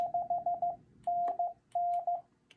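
Morse code CW tones in an amateur radio exchange sending a 599 signal report: a single steady pitched tone keyed in crisp dits and longer dahs, clear and moderately loud, with short gaps between characters.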